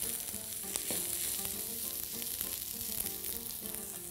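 Onion sizzles steadily in a hot pan while kishk with meat and mint is cooked, a dense crackling hiss with scattered clicks of stirring, close and continuous with no talking.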